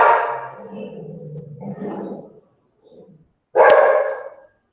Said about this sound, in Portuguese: Eita, a cachorra agora começou.